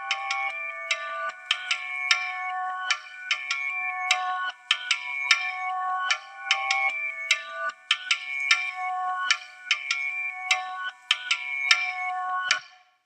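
A beat built in Ableton Live from two pitched-down samples plays on its own, a steady loop of bright plucked, bell-like tones repeating in a quick, even rhythm.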